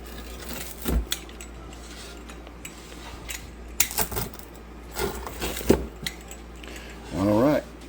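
Knife and utensils clattering and scraping while cutting into a baked ITALPIZZA wood-fired pizza, irregular close clinks and scrapes with a brief voice near the end.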